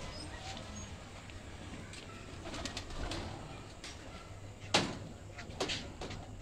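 Breeder pigeons coo softly on a rooftop, low repeated calls mixed with faint clicks and knocks and a louder clack near the end.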